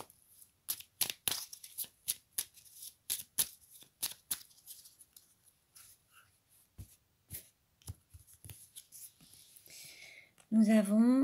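Oracle cards shuffled and drawn during a quiet reading: a run of soft, close flicks and taps in uneven bursts, then a brief voice right at the end.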